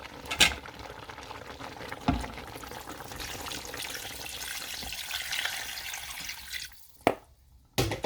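Water pouring steadily into a pot of ogbono soup, a continuous rushing splash with a few clunks, then it stops near the end.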